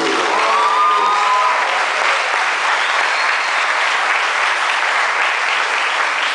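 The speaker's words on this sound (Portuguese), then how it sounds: "Dá um aplauso ao Senhor." A church congregation applauding during a service, with dense, continuous clapping that fills the space loudly and evenly, and a faint tone gliding through the first second.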